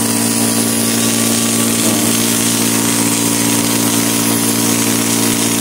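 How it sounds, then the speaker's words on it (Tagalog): A tankless air-compressor-type foaming machine runs at a carwash vending station, a loud, constant motor drone that holds steady from start to finish. "Yung ano natin yung foaming machine natin air compressor type tankless."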